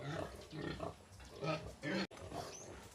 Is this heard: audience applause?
no